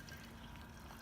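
Hot water poured over fresh mint leaves for tea, a faint, steady liquid wash and trickle running throughout.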